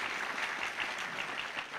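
Audience applause at a federation congress in a hall, steady dense clapping from many hands throughout, fairly loud and close with no voices on top.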